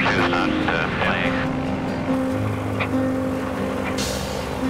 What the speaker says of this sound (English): Engine number 2 still needs some tweaking.